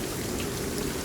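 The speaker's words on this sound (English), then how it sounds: "Well, then this is some heavy rain." Heavy rain pours steadily in a dense, even hiss of drops hitting a surface, constant and unbroken with no voices.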